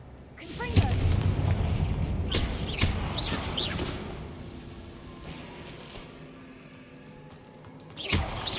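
A Confringo spell fires in Hogwarts Legacy, setting off a booming blast followed by several sharp crackling bursts and a rumbling tail that fades, and then another thump at the end.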